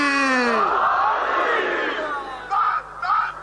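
A crowd at a majlis roars the Nara-e-Haidari slogan, voices rising together in a sustained cry, then shorter bursts of calling follow.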